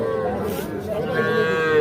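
A calf moos loudly and close at a busy cattle market crowded with young bulls and heifer calves, one long drawn-out low call filling the moment with market noise behind.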